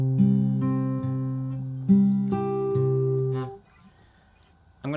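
A fingerstyle acoustic guitar picks a repeating in-between bar from a song, plucked notes ringing out over a few seconds, then a brief pause before another note starts, close and with no talking.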